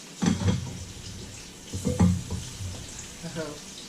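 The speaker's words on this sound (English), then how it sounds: "I hate frying stuff." Oil sizzles and crackles in a pan as tempura-battered yardlong beans fry, close by, with short bursts of stirring and scraping and a voice speaking intermittently over it.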